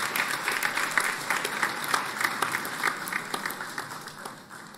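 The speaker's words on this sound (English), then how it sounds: "Let's give her a round of applause as well." An audience at a tenth anniversary concert claps steadily, a full crowd of hands producing dense, continuous applause that gradually fades toward the end.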